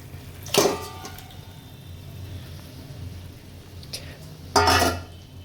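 Meat dropped into a pot of fried spices on the stove, with two loud sizzling bursts about four seconds apart rising over a steady low kitchen hum.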